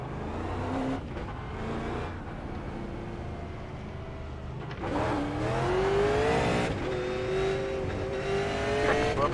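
A Super Late Model race car engine in the iRacing video game at Southern National, a continuous loud roar that drops as the car slows, then surges back up as it accelerates, with brief tire squeal.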